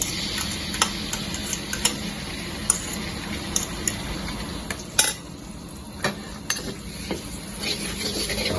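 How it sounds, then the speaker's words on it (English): Fermented bean curd fries gently with ginger in a wok over very low heat, giving a steady soft sizzle broken by scattered light clicks and scrapes of a stirring utensil, close and without talk. "Now fry the bean curd until you can smell the fragrance from it at a very low fire."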